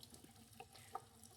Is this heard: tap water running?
yes